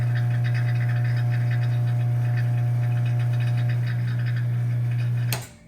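A vacuum pump degasses freshly mixed casting investment with a loud, steady low hum and a faint higher whine, running unbroken until it is switched off with a click just before the end.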